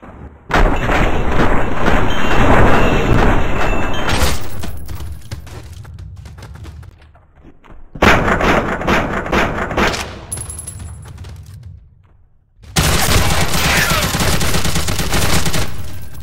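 Heavy, continuous gunfire in the People Playground video game, loud dense volleys in three long stretches separated by brief quieter gaps.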